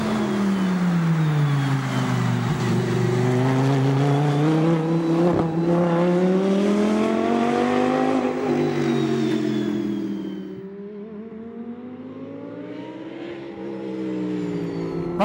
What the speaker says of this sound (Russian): с ревом несемся по прямику